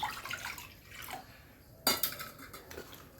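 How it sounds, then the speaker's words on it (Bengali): A bowl of water poured into a kadai on a gas stove, faint splashing and dripping with a sharp metallic clatter of the bowl against the pan midway, followed by a few lighter knocks. "আমি এই এক বাটি জল এই কড়াতে দিলাম"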